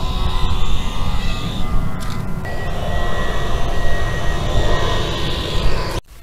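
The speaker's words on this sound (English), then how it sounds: "I'm gonna try to make the drone that's all right over there come flying all the way to the camera without crashing" A drone flies toward the camera with a loud, steady motor whine and buzzing that holds its pitch, then cuts off abruptly just before the end.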